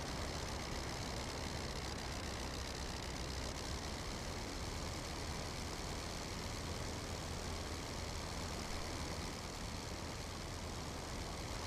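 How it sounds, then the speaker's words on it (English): A Sopwith Camel's rotary engine in the Rise of Flight flight simulator, throttled down to lower RPM, gives a steady, loud, unbroken drone with no voices over it. "so let's lower the RPM just in case the engine decides to die."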